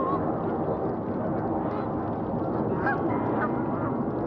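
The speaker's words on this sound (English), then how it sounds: "What are those big birds there? These are geese." Geese honk repeatedly in an outdoor wetland with cattails, a continuous chorus of overlapping calls at moderate distance, steady and fairly loud throughout.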